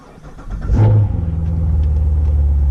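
A Corvette engine cold-starts with a brief cranking, then catches and flares into a loud rev before settling into a deep, steady, rumbling idle close by.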